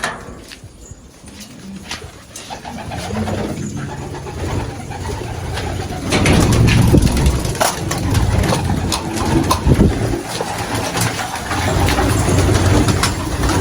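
Pigeons coo and shuffle inside a coop, soft repeated cooing over a busy rustling and scratching background that grows louder partway through, no talk heard.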